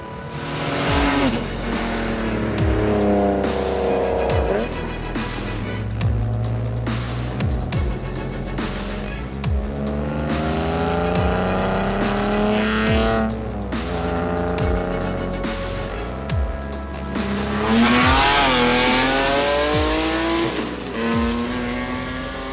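A BMW E36 built from a 325 into M3 spec revs hard as it drives, the engine climbing and shifting through gears with repeated sharp tire squeals, loud and close throughout with no talking.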